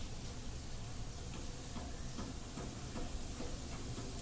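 Cumin seeds sizzling steadily in hot oil in a pan while a chicken curry is being cooked, a continuous hiss with faint crackles throughout, no voices.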